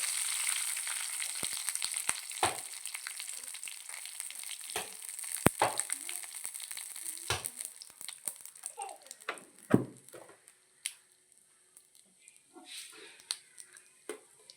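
Green chillies and curry leaves frying in a hot pan for a Kerala home-style dish, a steady crackling sizzle broken by sharp pops and spatter bursts, close and moderately loud, with a few clinks of a utensil.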